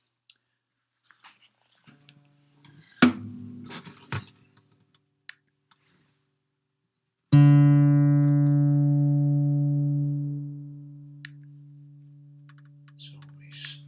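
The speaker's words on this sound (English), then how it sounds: "So we're going to record a guitar string." A single guitar string is plucked once and rings out in a clear sustained tone that slowly fades over several seconds, preceded by scattered keyboard clicks and handling taps.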